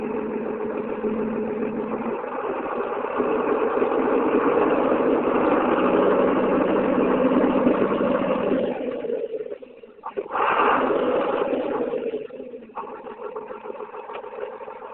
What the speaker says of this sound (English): I'm just going to do a quick thing of this, running the tractor on higher RPM.